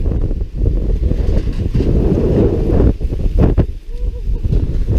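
Strong typhoon wind in Alaminos buffets the microphone with loud, gusty roaring that rises and falls, with brief knocks and rustles in between.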